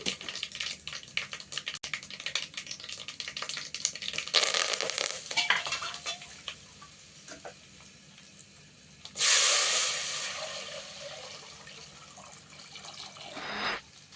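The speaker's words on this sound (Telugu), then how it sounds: "ఇప్పుడు నూనె పోసుకొని ఆవాలు వేసుకున్నానండి అవి వేగిన తర్వాత" Mustard seeds fry in hot oil while preparing an Andhra-style rasam, making a close crackling sizzle with scattered pops, a louder burst of spattering midway, then quieter frying, all without talk.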